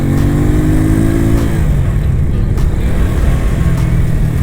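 An FKM Agimat 175 motorcycle accelerating on a street test ride: a loud, close engine rising in pitch through a rev, then a shift to a lower steady drone as it pulls on.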